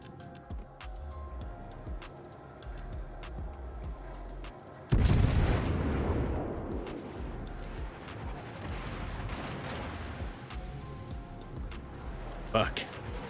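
Ship gunfire in World of Warships, a heavy booming salvo that hits suddenly and then rumbles and fades under continuous game noise, with a sharper crack later and a voice talking throughout.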